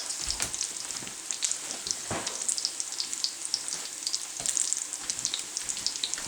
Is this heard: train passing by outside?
no